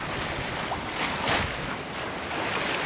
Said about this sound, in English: There is some wind. We are on like a 70 wind angle, and it's just smooth sailing.